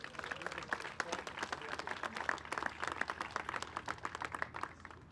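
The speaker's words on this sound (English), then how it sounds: "let's give them all a round of applause" A crowd at an outdoor school renovation groundbreaking ceremony gives a round of applause, many hands clapping briskly and continuously, fairly close, with crisp individual claps standing out over the wash.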